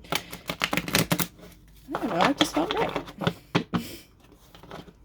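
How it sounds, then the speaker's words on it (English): Tarot cards from the Sacred Forest deck being shuffled in a run of quick, papery riffles and taps, heard close and mostly under ongoing speech from a woman doing a weekly reading. "So let's continue to shuffle"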